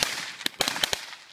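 Firecrackers set off outdoors during a Christmas tree burn at a lake, about five or six sharp cracking pops spread irregularly over a second, fairly close and loud, with no talking.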